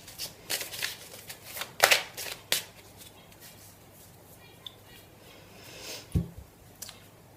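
Tarot cards being shuffled for a reading, with a cluster of soft riffling flicks early on, then quieter handling and a dull thump later, close and faint.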